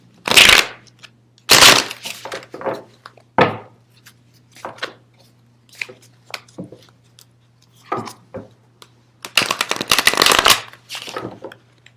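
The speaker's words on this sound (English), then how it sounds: "I suck at shuffling" Playing cards being shuffled in several bursts of riffling and bridging, close up, with soft handling noises and pauses between shuffles.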